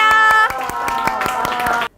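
A group of children in a drama class clap quickly and steadily for about two seconds while voices call out over the claps, then the sound cuts off abruptly.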